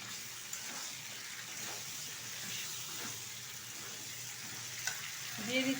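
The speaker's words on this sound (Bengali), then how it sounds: "তো এখন এর মধ্যে দিয়ে দেবো ভেজে রাখা পটল।" Fried pointed gourd goes into a curry pan with a steady sizzle and soft stirring scrapes close by. A brief clatter sounds near the end and there is no talking.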